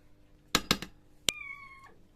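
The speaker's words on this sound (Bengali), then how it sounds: "ওটা বিড়াল" A house cat meows near a home kitchen at dinnertime: two quick close meows followed by a longer drawn-out meow, clear and alone against a quiet room.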